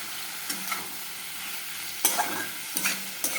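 Fish for a cauliflower curry frying in a pan with chili powder, a soft continuous sizzle broken by a few sharp stirring clicks and scrapes of a spatula.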